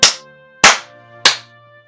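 Three sharp hand claps come close and evenly spaced about half a second apart, each with a short ringing decay in a quiet room.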